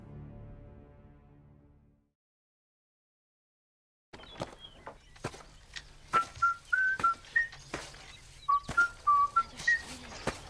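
Someone whistles a short melodic tune in bright, wavering notes over faint background noise, after a quiet pause at the start.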